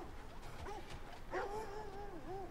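Dogs in the God of War Ragnarok video game whine and yip in short, rising and falling cries, close and moderately loud over a steady game soundscape.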